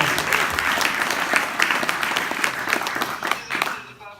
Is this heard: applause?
yes